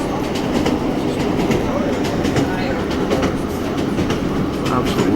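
Train running steadily, heard from inside a busy passenger carriage on a line crossing open countryside toward a viaduct; a continuous loud rumble with rhythmic wheel clatter and some murmured voices underneath.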